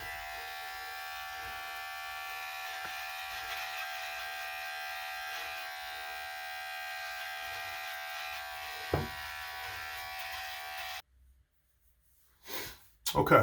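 An electric trimmer buzzes steadily and close while trimming a thick beard grown out for over four months, then cuts off, followed by brief rustling and breathing.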